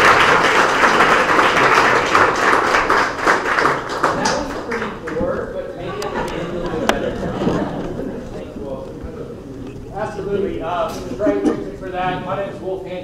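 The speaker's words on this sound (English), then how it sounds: "I like to give them like a standing up round, rousing round of applause." Standing audience applause at a capital-raising business event: brisk clapping for the first several seconds, thinning to scattered claps as people talk and chuckle over it.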